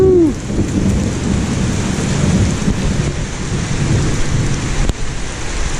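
Heavy rain pouring steadily during a thunderstorm, with a low continuous rumble of thunder beneath it and a sharp crack near the end; no one speaks.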